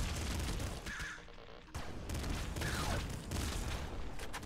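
Triple assault rifle fire in the video game Nuclear Throne, dense bursts of gunshots and booms layered over busy game music and effects, continuous and loud with brief dips.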